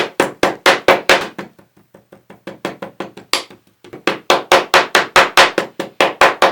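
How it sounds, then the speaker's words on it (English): Forming sand in a casting frame for bronze casting is packed down with rapid, loud, sharp tamping strikes in quick rhythmic bursts, with a short softer, sparser stretch in the middle. "you fill it up with the forming sand. You need to compress it very, very well."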